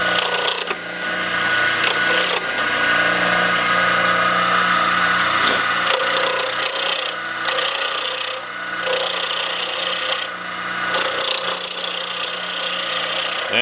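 Walnut pen blank spinning on a wood lathe, a steady rasping scrape of the cutting tool on brittle figured wood, continuous and close with a few brief pauses where the tool lifts off.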